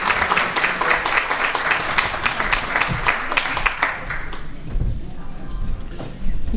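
A room of people gives a round of applause that runs steadily for about four seconds, then fades out into low murmuring and chatter from the crowd.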